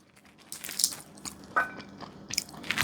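Crunchy boiled peanuts bitten and chewed up close, with several crisp crunching bites spaced about a second apart and soft wet chewing in between, with no talking.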